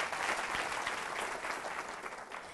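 An audience at a high school event applauds, a sustained, fairly distant wash of clapping that tapers slightly toward the end.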